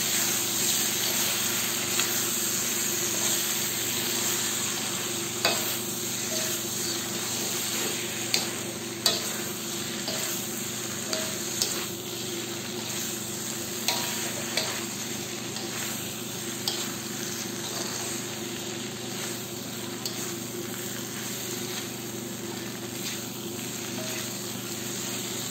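Pork binagoongan sizzles steadily in a pan as sugar is stirred in, with a constant frying hiss and scattered scraping clicks of a utensil against the pan, up close and without talk.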